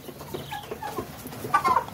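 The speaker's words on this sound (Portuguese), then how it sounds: "Galinha preta." Free-range hens, including a black hen, cluck in short irregular bursts close by on a farm, with a louder, sharper cluck toward the end.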